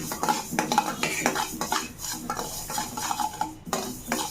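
Mustard seeds dry roasting in a pan with no oil, giving continuous stirring scrapes and light rattling clinks of a spoon against metal, close up and without talk.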